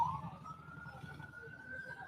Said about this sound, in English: Might be an ambulance.